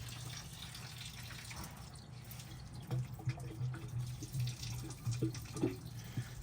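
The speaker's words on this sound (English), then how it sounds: "So that's just water that we had in it to get it running. We're going to drain it." Water draining out of a 1963 Chevy ranch truck's radiator, a soft trickle and splatter with scattered drips and small splashes, fairly faint and steady throughout.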